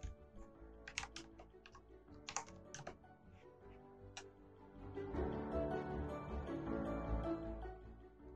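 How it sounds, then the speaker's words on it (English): Computer keyboard typing: a few sparse, close key taps at first, then a denser run of quick clicks over a low background hum. "Type the letter M plus the 8 numbers following."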